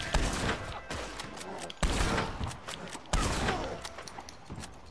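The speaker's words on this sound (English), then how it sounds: "someone's shooting me" Gunfire from another player in Red Dead Redemption 2 Online: a rapid volley of loud, sharp shots repeating in bursts over a few seconds.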